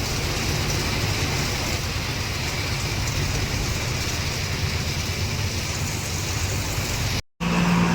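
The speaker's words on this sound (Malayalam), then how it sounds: "അതായത് ഈ റോഡിന്റെ തൊട്ട് താഴെ പുഴയാ." A river flows just below a roadside in Ankola, Karnataka, a steady broadband rush of water that stays loud and even throughout, with a brief dropout near the end.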